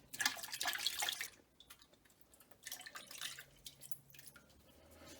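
Water splashes and drips over dirty coins being rinsed in a rock tumbler. A close, wet gush comes first, then quieter trickling and dripping.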